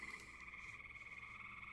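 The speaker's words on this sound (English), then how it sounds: "I don't know if you guys can hear all those frogs in the background or not" A chorus of frogs croaking in the background, a faint but steady outdoor trill that continues without a break.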